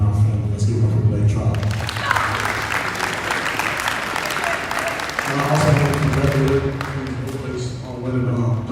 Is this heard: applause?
yes